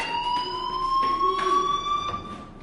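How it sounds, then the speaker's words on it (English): A fire alarm in the video game Life is Strange sounds as a steady, loud electronic tone that holds for the whole stretch, with faint background noise. "Hey, do you hear that fire alarm?"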